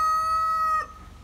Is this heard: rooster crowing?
yes